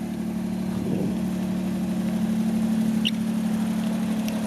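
A 1993 Suzuki Alto Works RS-R turbo three-cylinder engine idles steadily with a smooth, constant low hum, close by, with no talking.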